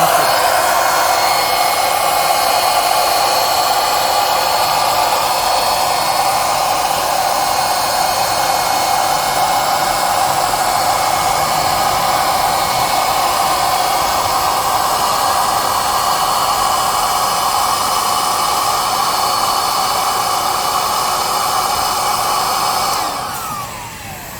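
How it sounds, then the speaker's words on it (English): Electric air pump inflating a car air mattress, a loud, steady whooshing drone close by that runs unbroken for over twenty seconds before cutting off at the end, with no talk. "have inflated the mattress"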